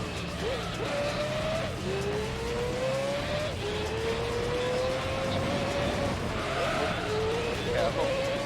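In the video game Gran Turismo 3, a race car's engine revs and whines, rising and falling with the gear changes, while the tires squeal and skid. A person talks over the engine noise.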